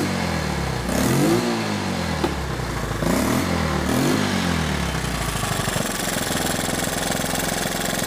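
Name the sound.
three-wheeler engine running and revving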